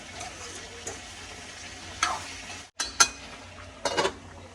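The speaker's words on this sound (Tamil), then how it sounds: "ஓகே, இப்போ வந்து பூசணிக்காய் பிரட்டிடலாம்." Pumpkin being stirred and fried in a pan for a Tamil home-cooked curry, with soft continuous sizzling broken by a few sharp scrapes and clinks of the spoon against the pan, heard up close with no talking.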